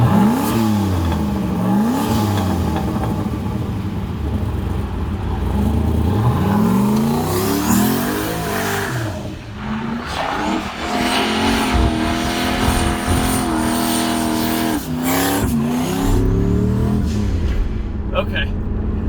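A 1000 HP LS1 Trans Am with an air-cooled turbocharger accelerates hard, its engine note sweeping up through repeated gear pulls in a loud close roar with brief dips between shifts, and a voice speaks over it.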